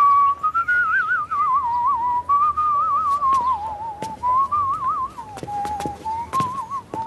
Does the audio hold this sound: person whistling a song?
yes